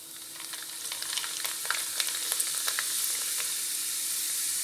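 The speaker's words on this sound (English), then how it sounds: "Let's fry some wheat pasta." Wheat pasta frying in hot oil gives a steady close sizzle with crackling pops that build over a few seconds, with no talking.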